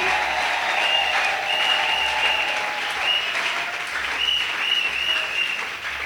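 A church congregation applauds steadily during a Wednesday worship service honoring Jesus, a dense, continuous wash of clapping that stays loud throughout with no break.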